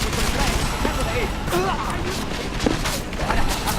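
Gunfire in the shooter Deus Ex: Mankind Divided comes in scattered sharp shots beneath a constant game soundscape, with people talking over it.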